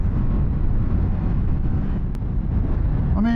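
Steady, loud wind roar buffets the microphone while riding a 2024 Indian FTR R Carbon motorcycle with no wind protection, a continuous broadband rush that fills the whole clip.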